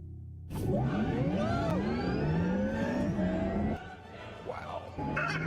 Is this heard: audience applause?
no